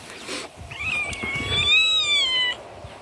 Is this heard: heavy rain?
no